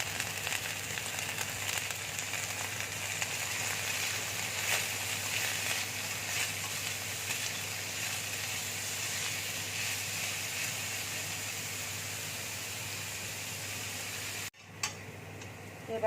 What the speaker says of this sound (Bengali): হালকা করে ভেজে নেব, তারপরে গাজরটা দেবো